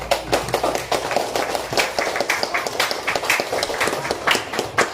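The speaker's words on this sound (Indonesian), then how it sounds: "Beri tepuk tangan untuk teman-temannya" Students in a classroom clap for their classmates, a close, fairly loud burst of hand claps with distinct individual slaps in a loose, uneven rhythm, continuing without pause.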